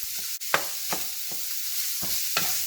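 Ground beef browning in a pan, seasoned with cracked black pepper, with a steady sizzle punctuated by five or six sharp scrapes of a utensil stirring and turning the meat, close and clear with no talking.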